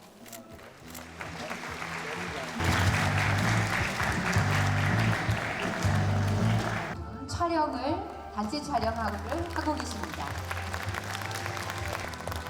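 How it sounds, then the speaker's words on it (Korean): Applause for award winners at a Gwangju citizens' day ceremony, a swell of crowd clapping in the middle with background music, followed by an announcer speaking. "수상자분들께 축하의 박수 많이 해주신 여러분 감사드립니다"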